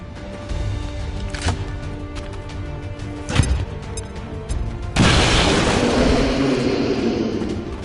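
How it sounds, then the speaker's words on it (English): A grenade goes off in XCOM 2, a sharp boom followed by a long, loud rushing debris wash, preceded by a couple of smaller impacts over steady background noise with no speech. "Grenade out!"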